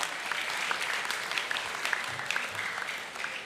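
Parents at a school academic awards assembly applaud steadily, dense clapping filling the whole stretch at moderate volume, with a faint voice or two underneath.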